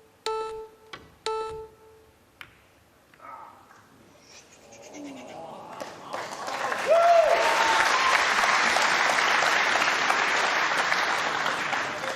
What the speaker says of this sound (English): The crowd applaud, but Alcaide does not share their enthusiasm